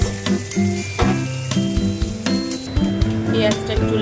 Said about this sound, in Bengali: পেঁয়াজ কুচি যতক্ষণ একটু লাল লাল মতো ভাজা হচ্ছে ততক্ষণ আমি একটু নেড়ে যাবো